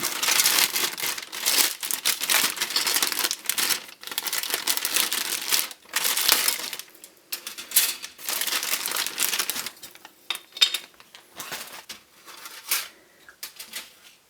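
A plastic bag holding a Hasegawa 1/72 tank model kit's sprues crinkles and rustles loudly in irregular bursts as it is opened and handled up close, growing sparser toward the end.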